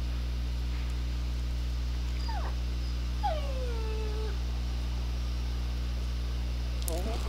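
A dog whimpers and whines in Assassin's Creed 3, a few short high yelps and a drawn-out falling whine over a steady low hum of game ambience.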